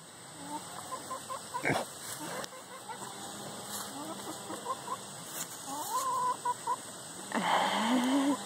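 Chicken clucking nearby in short repeated bursts, waiting for squash, with brief louder squawks and faint talk mixed in.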